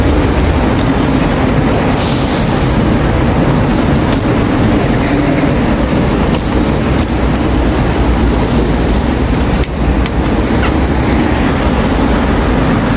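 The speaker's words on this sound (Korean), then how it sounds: "부산 김해 경전철이죠." A Busan-Gimhae light rail train passes, a steady loud rumble with wheel noise and faint clicking, continuous for the whole stretch, with no talk.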